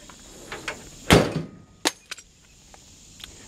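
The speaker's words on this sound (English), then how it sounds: "the mirror just fell out when I slammed the door" A single heavy metallic slam of a 1955 Chevrolet 3100 pickup truck door, followed by a few small clanks and rattles as the mirror falls out, in an otherwise quiet setting.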